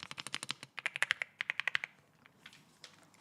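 Brisk typing on a stock, unmodded mechanical keyboard: rapid clacking keystrokes in close, even bursts, pausing briefly, then trailing off into a few softer, scattered taps.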